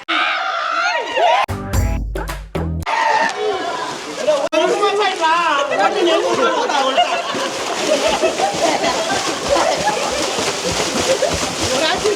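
People splashing and sloshing in a swimming pool, with steady chatter and excited voices over the water noise throughout.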